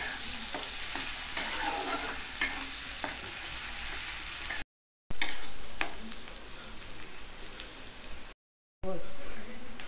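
Spiny gourd mash is stirred and fried in a pan over a low gas flame, with a steady sizzle and scraping strokes that are interrupted by two brief gaps of silence.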